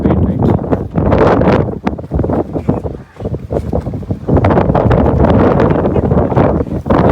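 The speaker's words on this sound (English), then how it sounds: "Too much windy action is happening." Strong wind buffets the microphone in loud, continuous roaring gusts, with a few voices talking faintly underneath.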